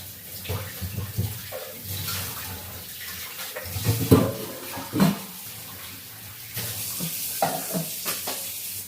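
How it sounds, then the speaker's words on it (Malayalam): A spoon stirs and mixes achappam batter in a bowl, giving soft wet sloshing and scraping that is fairly quiet. There are irregular stirring strokes with a few louder clacks near the middle, and no voices are heard. "എല്ലാം കൂടെ ഇനി നമുക്കൊന്ന് മിക്സ് ചെയ്യാം"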